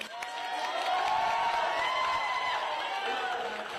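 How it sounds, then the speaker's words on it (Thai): An audience applauds at a Thai talk on a new pension calculation formula, a steady wash of clapping that holds for a few seconds with a voice faintly beneath it. "ขอเสียงปรบมือให้พี่น้องประชาชนปรบมือให้ตัวเองนะครับ"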